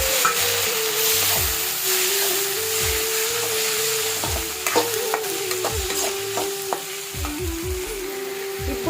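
Tomatoes for egg burji frying in a hot pan, a steady close sizzle with repeated clinks and scrapes of a spoon stirring throughout.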